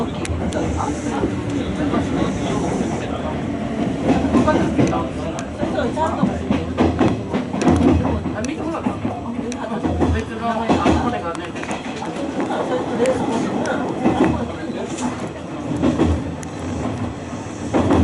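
Steady, loud rumble and rattle of a Hanshin Railway rapid express bound for Kobe-Sannomiya, heard from aboard on the Tsuruhashi–Amagasaki run, with clattering wheel beats rising and falling over the continuous roar and voices murmuring faintly underneath.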